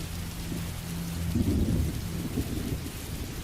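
Steady rain with rumbling thunder during a dark stormy night on a winding mountain road, the downpour hissing continuously while low rolls of thunder swell and fade.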